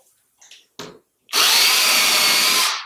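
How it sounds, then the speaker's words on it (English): A few faint knocks, then a power drill whirs loudly and steadily for over a second, pre-drilling into wood for a willow chair at close range. "Drill, pre-drill."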